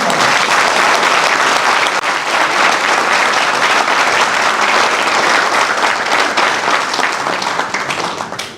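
Hall full of people applauds as the chief guest, a Special DG of Training, is invited onto the stage at a police training institute event: a thick, continuous wash of clapping that holds for the whole span and tapers slightly at the end.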